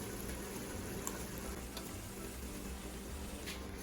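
Spinach hitting a hot pan of sauteed shrimp gives a steady, soft frying sizzle that stays even throughout with no talking.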